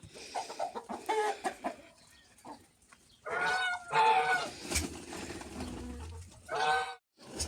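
Chickens cluck and call in a henhouse at feeding time, with bursts of louder squawking between quieter pecking and shuffling, fairly close and with no talk.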